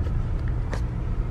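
A Volkswagen Jetta being driven gives a low, steady road rumble from inside the cabin, with a couple of faint brief knocks and rustles over the hum.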